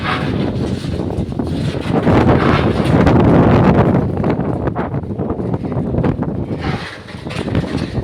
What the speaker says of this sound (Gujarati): પવનની સ્પીડ તો જુઓ ખાલી, પવનની સ્પીડ કેટલી ફૂલ અને આ વરસાદ જુઓ ખાલી.